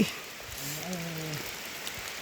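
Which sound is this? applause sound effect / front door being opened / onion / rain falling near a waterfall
rain falling near a waterfall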